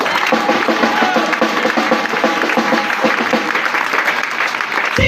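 A church congregation at a Pentecost seminar applauding, dense continuous clapping close and loud with crowd voices mixed in, holding steady for several seconds.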